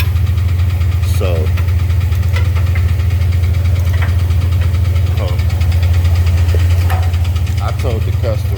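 An LS V8 engine idling with a tapping, ticking light knock traced to the lower end, a loud continuous low hum with faint irregular ticks over it.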